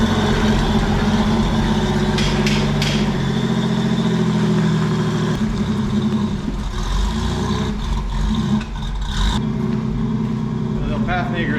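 The Pathmaker rock crawler rig, running cold and rough, sits at a loud low idle with throaty rumbling and occasional revving changes, a voice speaking over it throughout.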